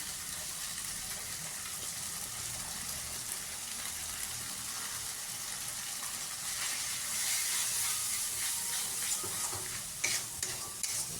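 Water poured onto dry, frying spice paste for a prawn malai curry sets off a steady hissing sizzle that swells louder partway through, with brief spattering pops near the end.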